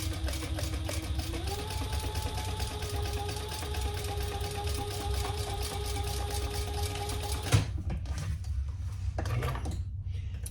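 A sewing machine runs top stitching across folded D-ring tabs on a crossbody bag, a loud, close, rapid mechanical whirr with an even stitch rhythm that stops abruptly near the end, leaving a few soft handling knocks.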